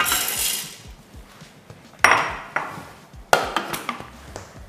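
Hard chunks of chocolate clatter and clink into a Thermomix's metal bowl in a few sharp bursts, with rustling between them and no talking.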